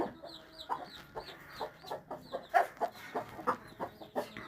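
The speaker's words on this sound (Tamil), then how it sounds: "அது கூட கோழி அந்த சைடு இந்த சைடு போயிட்டு இருந்துச்சு." Chickens clucking in a steady, repeated run of short calls, fairly close, with a faint high chirping in the background.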